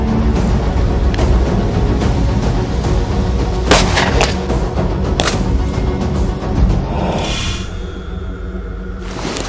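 Glock 17 pistol shots fired at bulletproof glass during a ballistic protection class test, heard as several sharp, loud reports over steady heavy background noise, with the reverberant tail fading near the end.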